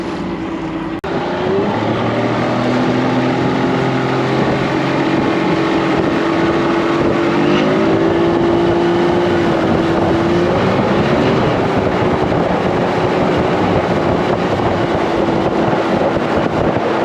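A small restored tinny runs under motor, its outboard engine giving a loud, steady drone with slight pitch shifts, heavy wind buffeting the microphone, and no talk.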